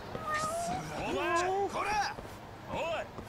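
Several drawn-out cat meows rise and fall in a game of Judgment, loud and close, repeating in a loose sequence over about three seconds with faint background sound beneath.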